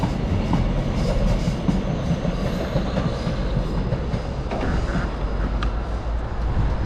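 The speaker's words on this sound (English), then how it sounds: "We're catching one of the trains still in use." A train rolls past with steady rumbling and rhythmic clickety-clack of wheels on track, loud and continuous for several seconds, with no voices.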